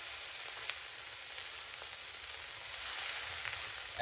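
Shrimp and garlic browning in butter in a pan with half a lemon squeezed in, giving a soft, steady frying sizzle that swells slightly toward the end.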